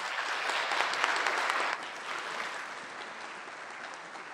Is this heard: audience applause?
yes